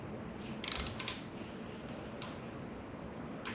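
A rocker nut is tightened on a Chevy 5.7 Vortec V8 engine from a Silverado, giving a short burst of close ratchet clicks followed by a quiet stretch with one or two faint metallic ticks.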